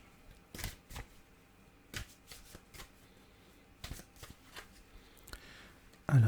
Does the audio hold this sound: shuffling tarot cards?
yes